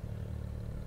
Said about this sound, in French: Attends bien le petit moteur de la voiture.